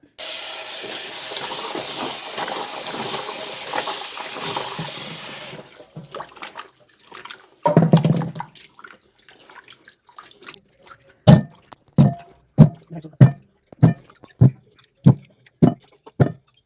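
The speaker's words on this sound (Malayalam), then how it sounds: "ഇനി നല്ലോണം ഒന്ന് കഴുകിയെടുക്കാം." Steady running water pours from a tap, then stops, followed by splashing and a series of regular wet knocks as Chinese potatoes (koorkka) are rinsed and handled.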